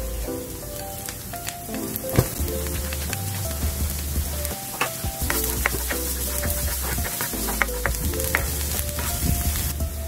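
Garlic fries in a pan with a steady, dense sizzle, close and continuous, with occasional stirring clatter and a low tonal hum running underneath.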